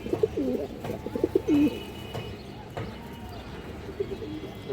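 Indian high flyer Kaldam pigeons coo softly in a loft, with intermittent bird calls, light shuffling and a few taps, moderately near under a faint background hum.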